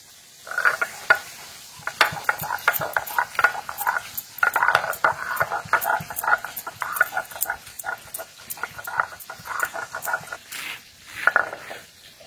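Ginger being ground into paste for a fish curry, heard as a steady run of close, rhythmic scraping strokes that repeat without pause for the whole stretch.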